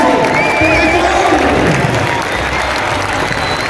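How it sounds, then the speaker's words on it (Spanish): A stadium crowd at a football final in Quito applauds loudly and continuously in honour of Independiente del Valle, a dense wash of clapping with cheering and voices mixed in throughout. "Independiente de Valle, fuerte el aplauso por Ecuador."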